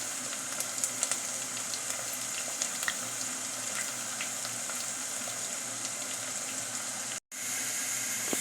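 Onions fry in very hot oil with a constant bright sizzle and scattered pops, close and steady, broken by a brief moment of silence near the end.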